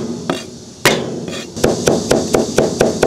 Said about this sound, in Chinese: 咱们现在准备点那个蒜末